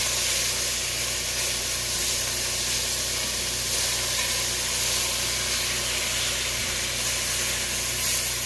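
Grease popping and sizzling in a pan as oxtails brown, a steady broad hiss with faint scattered pops, close and continuous with no talking.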